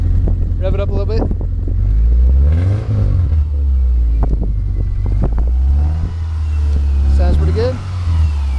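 A 2003 Subaru Legacy with a new aftermarket exhaust revs in several swelling bursts over a deep, loud idle rumble close by, with people speaking intermittently.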